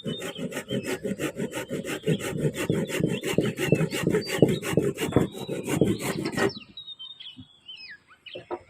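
A hand saw cuts wood in quick, rhythmic back-and-forth strokes for several seconds during simple grafting work, then stops, leaving faint bird chirps in a quiet background.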